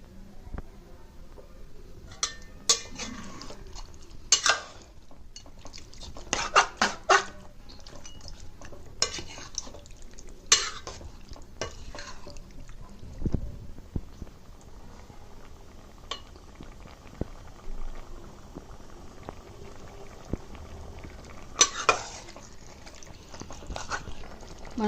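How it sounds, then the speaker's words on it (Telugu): A spoon scrapes and clinks against a pan as chicken coated in ginger garlic paste is stirred over medium flame, in irregular close bursts with quiet gaps between. "సో మనం చికెన్ యాడ్ చేసిన తర్వాత అంతా కూడా ఇలాగా బాగా కలిపేసుకోవాలండి."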